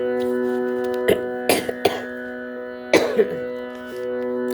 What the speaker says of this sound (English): pardon me if I'm in between coughing a bit